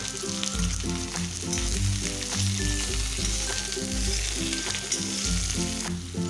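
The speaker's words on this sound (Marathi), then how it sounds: "हा दोडका आपल्याला तेलावरती साधारण एक पाच मिनटं छान असा परतून घ्यायचा आहे" Ridge gourd fries loudly in hot oil in an iron kadhai, a dense crackling sizzle with stirring noises, while a rhythmic musical beat plays underneath.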